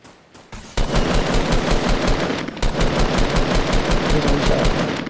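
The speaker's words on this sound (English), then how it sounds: "someone's shooting from behind" Loud, rapid automatic gunfire from the Fortnite video game crackles in dense continuous bursts for several seconds, close and dominant, with almost no talk.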